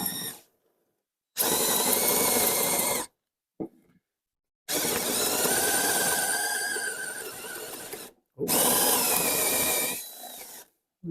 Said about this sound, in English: So we'll drill it out